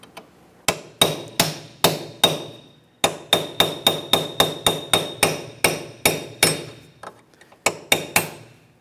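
A hammer strikes a chisel working out the rear hub center cap on a 1994-1997 Honda Accord during wheel bearing replacement. Around fifteen sharp, ringing metallic taps come in quick, fairly even bursts, with a brief pause midway.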